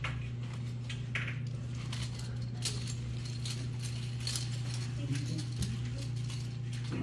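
Keys jangle briefly during a police encounter over a steady low hum and background noise, with light metallic clicks and scuffs scattered through, while people talk nearby.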